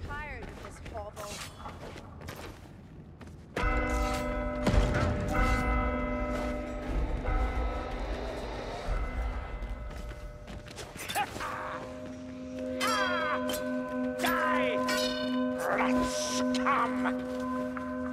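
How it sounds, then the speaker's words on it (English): A church-style bell rings repeatedly inside the Warhammer Vermintide co-op game during a Zealot Righteous Stand legend run, sustained tolling tones layered under game effects, clashes and character voices. "Please ring the bell."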